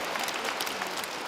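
A lecture audience at a Catholic retreat claps together, a dense patter of many hands, steady and somewhat distant, with no voices over it.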